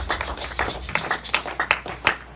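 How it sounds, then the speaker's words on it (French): A church congregation clapping together in steady rhythmic beats, about a dozen sharp claps in a short burst, close and moderately loud with no talk. "Nous acclamons très fort."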